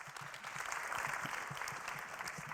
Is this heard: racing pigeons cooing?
no